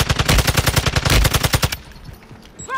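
Rapid automatic gunfire from a video game rattles off in quick, evenly spaced bursts for nearly two seconds, loud and close, then cuts out to near silence with a faint whistling tail.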